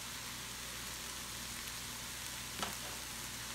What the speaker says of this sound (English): And now we're going to give this a stir.